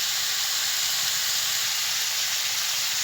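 Spices with salt and turmeric frying in a pan give off a steady, even hiss that holds at one level throughout, close and continuous with no voices.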